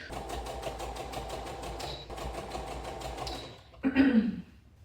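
A sewing machine runs in two quick bursts of rapid stitching, sewing elastic closed on a pair of pyjamas, close up, then stops before a short handling noise.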